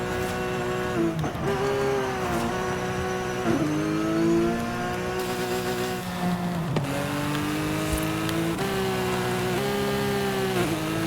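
A Porsche in the racing game Forza Horizon 5 downshifts through curves, the engine note repeatedly dipping and rising again with several sharp gear changes, loud and steady throughout with no voices.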